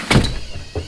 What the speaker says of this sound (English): I'm going to get in my desk drawer over here